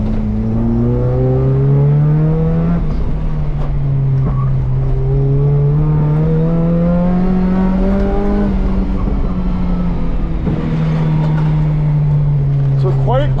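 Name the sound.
Volvo 740 car engine during a lap time test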